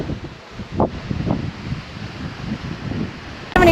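Strong gusting wind in Patagonian open country near Perito Moreno buffets the microphone with a low, rough roar that swells and eases in uneven gusts, with no voices.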